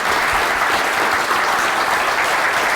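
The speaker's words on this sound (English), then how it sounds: "I deserve a hand of applause." Lecture audience applauding at the end of a computer architecture talk: a continuous, even roar of many hands clapping together, filling the whole short stretch without a break.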